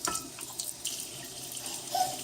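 Tap water runs steadily into a kitchen sink, a continuous close splashing stream with no talking over it.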